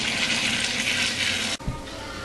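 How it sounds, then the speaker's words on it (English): Wine liquid poured into a bag during home winemaking, a steady rushing stream lasting about a second and a half, then a sudden stop followed by a soft thud and faint residual sound. "Leave the top of the bag out and just pour the rest of the liquid in"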